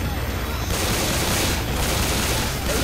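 Gunfire in Left 4 Dead 2, heavy shots blasting into a zombie horde, loud and dense, a sustained broadband roar of firing and game noise filling the whole stretch without pause.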